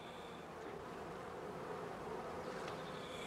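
Honeybees buzz steadily at a heath apiary where colonies live in traditional straw skeps, a dense, continuous hum with no voices, fairly faint throughout.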